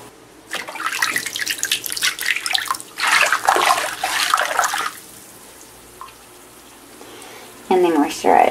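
Color bath bomb fizzing and splashing in bath water, loud watery rushing bursts close by, with a voice briefly near the end.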